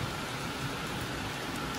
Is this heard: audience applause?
no